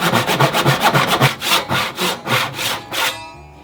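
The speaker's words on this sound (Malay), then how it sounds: "dan saya ada geraji ni. Saya potong je yang mana yang tak cukup tu kan." Hand saw cutting wood for a wooden sink cabinet, a steady back-and-forth rasping of about a dozen strokes, close and loud, ending abruptly with no talking.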